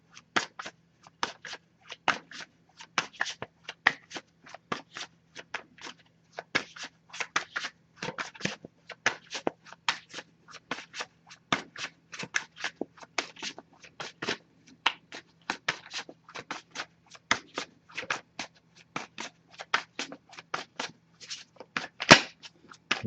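A deck of oracle cards is shuffled by hand in a quiet room, giving dozens of crisp, irregular riffling snaps over about twenty seconds.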